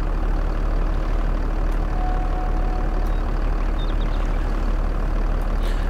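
A tractor engine idles in the Farming Simulator 22 video game, a loud, steady low drone that runs unbroken throughout with no voices over it.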